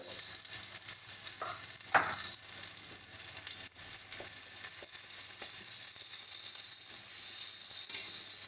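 Spices with turmeric and red chilli powder frying in a pan for a taro and hilsa fish head dish, giving a steady close sizzle with occasional scraping stirs and no talking.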